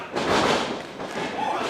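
A wrestler's rump thump, a hip-first body attack onto an opponent during a pro wrestling match, lands as a heavy, dull thud with crowd and commentary noise around it.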